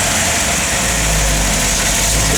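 A 1958 Chevrolet Apache truck engine idling loud and close, a steady low rumble with constant vibration and no speech over it.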